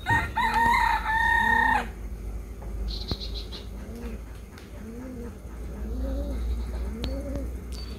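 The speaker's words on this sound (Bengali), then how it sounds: "এই যে কৌতরি কেমন হয়েছে শীতের মধ্যে, ডাক পারবাছি।" Pigeons kept indoors in a home coo in soft repeated rolling calls, a few spaced out over several seconds, after a loud rooster crow at the start.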